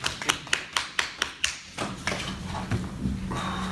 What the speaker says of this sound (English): I'm glad for that great applause I just had for my speech.